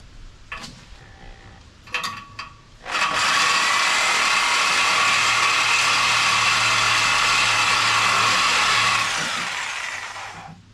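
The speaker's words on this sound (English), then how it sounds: "So I have to use a Sawzall, and I'm gonna have to cut these on both sides." A reciprocating saw cuts metal on a 1989 Ford Mustang Fox body, a loud, steady, harsh buzzing grind running for about six seconds and then tapering off, preceded by a few sharp mechanical clicks and clunks.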